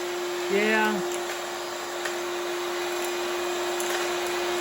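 A Dewalt wet/dry vacuum runs with a steady, loud motor whine while sucking up nuts and screws, with a faint clatter of small parts and a person's voice briefly over it.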